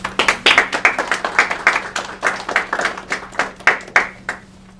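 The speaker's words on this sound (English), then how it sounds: "Applause, applause." Applause from a small crowd at a reading event, uneven claps rising and falling for several seconds before tapering off.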